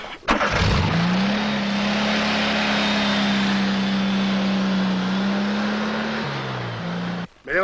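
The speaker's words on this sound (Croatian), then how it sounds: "sad sam javio da se u Dircima spustio neki avion bez dozvole" A small propeller airplane drones steadily and loudly at close range for several seconds, its engine tone holding level before shifting slightly as it comes in to land near Dirci, with no talking over it.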